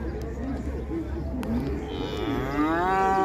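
Cattle mooing at a busy cattle fair in Águas Belas, Pernambuco, with a long, rising, drawn-out moo near the end over steady crowd chatter and background voices.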